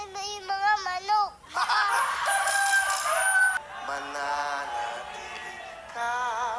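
A rooster crows repeatedly over a busy farmyard, its strained calls overlapping with other chicken sounds and background commotion, fairly loud and continuous.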